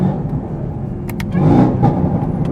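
Supercharged car engine with a Corsa cold air intake downshifting, a steady close rumble that rises and swells partway through with a faint whine over it.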